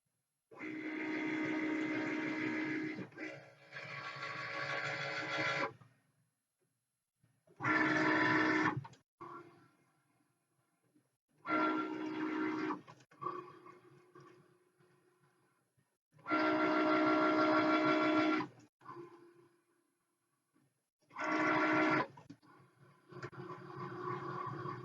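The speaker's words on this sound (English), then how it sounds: "We're going to click on the Cricut logo to start the project." A Cricut cutting machine runs a Christmas greeting card project, with close, loud bursts of motorized whirring and carriage movement broken by short quiet pauses.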